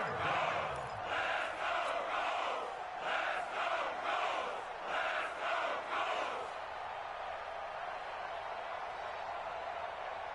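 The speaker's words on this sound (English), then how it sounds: "the crowd getting into it as we come up on a big 3rd down" In an American football video game, a stadium crowd roars on a 4th-quarter 3rd down, swelling in rhythmic rising chant-like surges for several seconds before settling into a steady, dense murmur.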